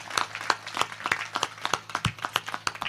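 A girl claps her hands in appreciation at a poetry recitation, a quick run of sharp, close claps that keeps a fairly steady beat, with no other sound around them.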